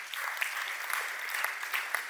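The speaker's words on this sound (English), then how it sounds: "Please, a round of applause to him once again." Conference audience at a mentorship and entrepreneurship event applauds a speaker, a steady, moderately loud patter of many hands clapping with occasional sharper individual claps standing out.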